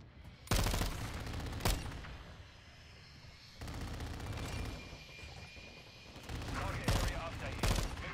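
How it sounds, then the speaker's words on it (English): Call of Duty MW2 VTOL killstreak gunfire crackles in rapid bursts over a steady aircraft engine hum, with several sharp heavy shots standing out close and loud. "My VTOL is popping off"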